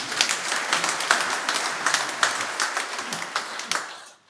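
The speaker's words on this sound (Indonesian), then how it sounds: "Tepuk tangan untuk paroki ini." A church congregation applauds steadily for about four seconds, dense clapping that fades out at the end.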